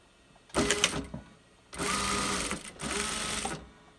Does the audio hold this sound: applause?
no